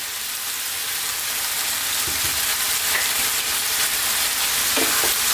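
Turmeric, chili and cumin powders fry in a hot pan with a continuous loud sizzle, while a utensil stirs and scrapes with a few soft knocks against the pan.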